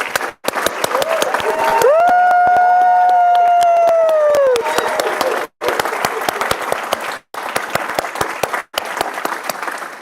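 An audience at a higher education leadership fellowship graduation ceremony gives a sustained round of applause for the graduates, dense clapping filling the whole stretch with brief pauses, while a tonal voice or instrument note rises over it for a few seconds.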